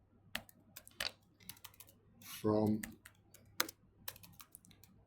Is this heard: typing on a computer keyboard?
yes